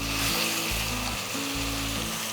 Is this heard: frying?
yes